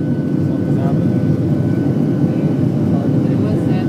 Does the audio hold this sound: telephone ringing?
no